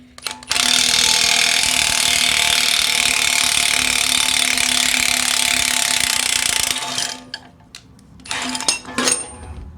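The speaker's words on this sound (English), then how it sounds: "than drive the bolt with an impact wrench" An impact wrench drives a bolt during a front wheel bearing job on a 2005 Acura TSX. Its loud, continuous rattling buzz lasts about six seconds, then comes a pause and a few short bursts.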